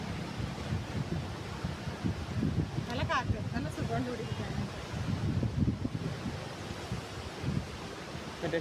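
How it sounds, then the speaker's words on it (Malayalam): Wind sweeps steadily through open hill country in Idukki, Kerala, a broad rushing roar with louder gusts, while someone talks over it. "ഇവിടുത്തെ കാറ്റാണ് കാറ്റ്, ഇടുക്കിയിലെ കാറ്റ്"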